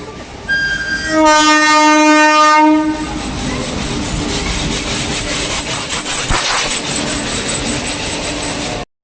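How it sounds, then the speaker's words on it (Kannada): A train sounds a loud, sustained horn up close, then rushes past at speed with a continuous roar and rhythmic clattering of wheels over the rails. "ಒಳ್ಳೆ ಟ್ರೈನ್ ಎಷ್ಟು ಸ್ಪೀಡ್ ಐತಿ."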